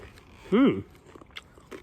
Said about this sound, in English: I still like the crunch.